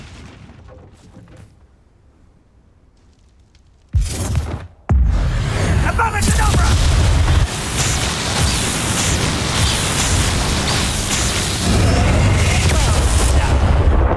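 Bombarda spell blasts in the Hogwarts Legacy video game: after a quiet lead-in, a sudden loud boom hits, then a sustained rumbling barrage of explosions and combat noise that swells louder toward the end.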